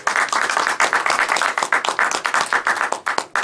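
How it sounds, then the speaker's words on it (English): Room applause for a high-end audio demonstration featuring Von Schweikert Audio loudspeakers and VAC valve amplifiers, a dense patter of many hands clapping close and steady throughout, no voices. "I'd like the room to give them an applause"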